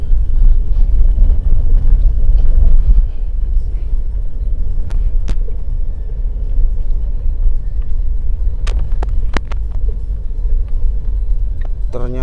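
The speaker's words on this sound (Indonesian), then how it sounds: "Kita ketemu bis malam lagi nih teman-teman, ditemenin sama bis malam." A Pandawa 87 night bus on the Jakarta–Jogja route via Temanggung gives off a steady, loud low rumble as it drives close by on the road. Faint clicks and brief squeaks occasionally break through.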